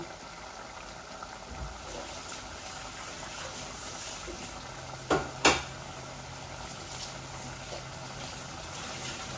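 Cherry tomatoes drop into meat frying in a pan, over a steady, quiet sizzle. Two sharp clinks stand out midway, followed by a faint low hum.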